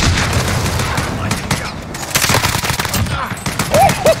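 Rapid automatic gunfire rattles loud and close in Call of Duty Warzone, in dense repeated bursts with heavy booms, while a voice speaks faintly underneath.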